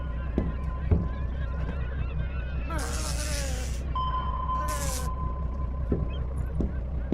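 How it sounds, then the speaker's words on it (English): Turkeys gobble from inside a boat hatch in short warbling bursts, heard under talking voices against steady water and boat noise. "Pix, did you put them turkeys in there?"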